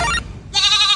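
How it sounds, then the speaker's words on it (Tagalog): A goat bleats twice in quick succession, loud and close, with a short gap between the two calls and nothing else heard. "meron kang kambing."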